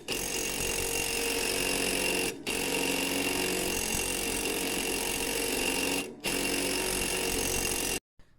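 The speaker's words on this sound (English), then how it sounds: "Now I'm just going to whiz it off." An impact wrench with a 21 mm socket spins a stuck nut off a Hayter Harrier 48 mower, a loud, steady rattling hammer running for several seconds with two brief pauses before stopping.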